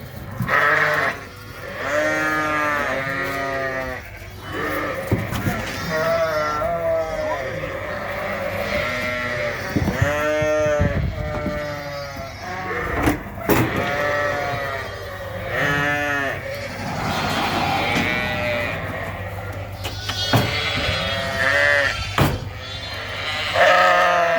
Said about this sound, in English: The noise with our sheep today are actually driving me crazy.